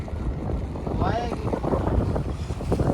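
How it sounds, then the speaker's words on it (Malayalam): Strong wind at sea around a deep-sea fishing boat during a storm, a continuous low rumble and buffeting roar, with a brief creak or whine partway through and no clear speech. "നല്ലപോലെ കാറ്റ് കൂടിക്കൊണ്ട് വരികയാണല്ലേ"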